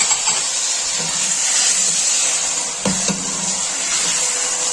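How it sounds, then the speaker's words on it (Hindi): Onions dropped into hot oil sizzle with a loud, steady hiss for aloo gobhi sabzi, with a few clanks of utensil against pan cutting through and no voices. "अब इसमें प्याज शामिल करते हैं।"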